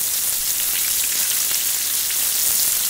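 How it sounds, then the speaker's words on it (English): A salmon fillet searing in a hot pan gives a dense, even hiss of sizzling and spitting oil. It runs steady and close throughout, with no voices. "The salmon is nicely seared."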